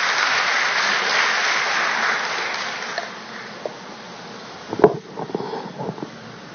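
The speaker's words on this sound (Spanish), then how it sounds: "un aplauso para él" An audience at an anti-corruption event applauds a guest doctor, the clapping strongest at first and fading within a few seconds, followed by a quieter room with scattered rustles and a brief bump of handling noise.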